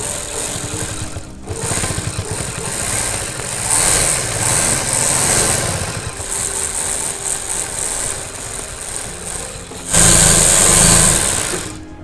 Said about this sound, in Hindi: पहले हम यहाँ पे इस साइड से सिलाई को मजबूत कर देंगे।